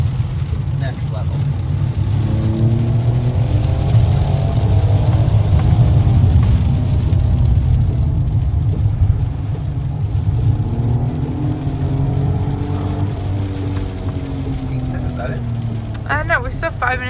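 A Fiat Panda hybrid with manual transmission drives along an Italian mountain road, its engine and tyre noise a steady close drone inside the cabin while people talk over it.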